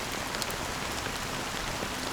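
Rain falling steadily on a surface, a dense, even patter of many drops that hisses without pause, moderately close and with no voices.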